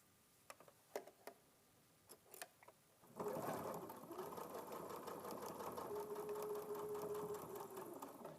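A sewing machine stitches quilt pieces cut into star shapes. A few sharp taps and handling clicks come first, then the motor starts in a steady, fast, close whir that continues to the end, with no talking.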